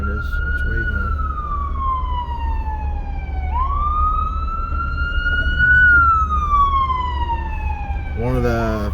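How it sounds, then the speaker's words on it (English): A wailing siren sweeps down and up in pitch, loud and near, over a low engine rumble, ending with a brief burst of a different siren tone. "it sounds like we got us an ambulance coming from somewhere."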